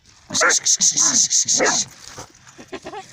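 Dogs bark in a rapid run of about eight sharp barks, close and loud, followed by growling and scuffling sounds as they fight.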